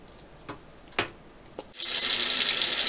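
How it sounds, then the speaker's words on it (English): Hot water from a kitchen tap starts running suddenly and keeps gushing steadily and loudly, after a few soft knocks and clicks. "The sound you are hearing in the background now is me flushing as hot water as I can get from my tap"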